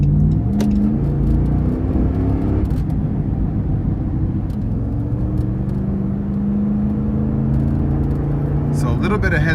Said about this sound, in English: Gonna give it some throttle here.